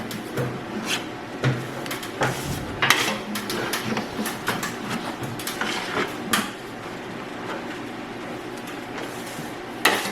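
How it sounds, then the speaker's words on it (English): A trowel spreads and scrapes plaster across a curved wall in a historic mansion, giving steady rasping strokes with sharper scuffs and taps, close and moderately loud with no talking. "I'm just going to trowel on what we have available here"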